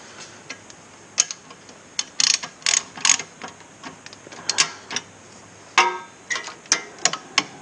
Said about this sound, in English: getting these bolts back in, or nuts, or screws